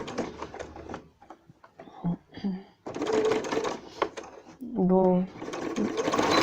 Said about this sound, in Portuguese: Eu costuro, eu costuro e dou retrocesso umas 3 vezes para poder ficar firme.